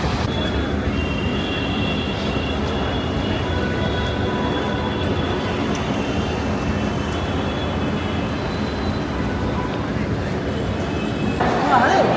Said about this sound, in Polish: Jesteśmy na głównej stacji na dworcu kolejowym. Tak wyglądają pociągi.